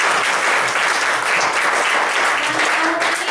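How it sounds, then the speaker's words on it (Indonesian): Loud, dense applause fills an office gathering, a continuous roar of many hands clapping close by from start to finish, with a voice faintly audible underneath. "Tepuk tangan, luar biasa."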